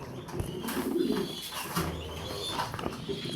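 Racing pigeons cooing in a loft, soft low repeated coos from several birds close by, with faint chirps and a brief flutter.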